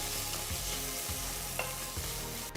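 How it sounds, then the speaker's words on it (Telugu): Green chilies and ginger garlic paste fry in hot oil and are stirred for an egg dish. The sizzle is close, with a few soft stirring scrapes over a short stretch. "ఇందులో 1/2 టీ స్పూన్ అల్లం వెల్లుల్లి పేస్ట్ని వేసి బాగా కలుపుకోవాలి."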